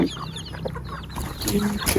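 A fighting rooster clucks in short, close bursts on a rural Lao homestead, with a few sharper calls toward the end and no one speaking.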